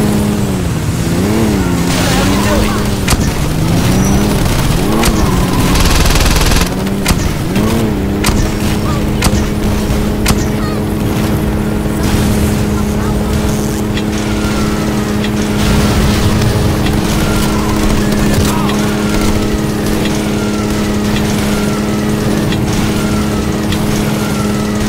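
Car driving in the video game Saints Row 2: a loud, continuous engine roar with rising and falling revs and passing whooshes, dense and steady throughout, with no clear speech.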